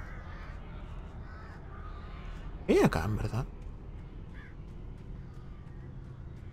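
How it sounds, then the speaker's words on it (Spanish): Crows caw in a short burst of harsh calls in the Alan Wake video game, clear against a quiet background while someone speaks softly before them. "Solo luz, un montón de pájaro."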